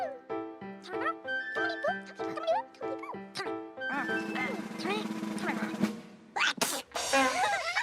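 Cartoon characters in a children's TV show sneeze one after another, with short squeaky bursts and a playful rhythm. The sneezes are mixed with sung and spoken voices and bright music.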